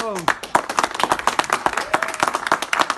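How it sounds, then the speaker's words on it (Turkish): A few people clapping at close range, sharp distinct hand claps in a quick uneven rhythm all the way through, with voices heard at the start. "Hani alkış?"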